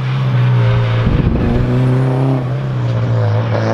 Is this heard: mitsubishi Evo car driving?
yes